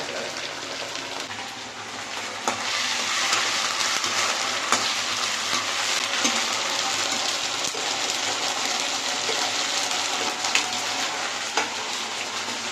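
Food fries in a pan with ginger paste added, giving a loud, continuous hissing sizzle close by, with occasional faint clicks and stirring taps throughout.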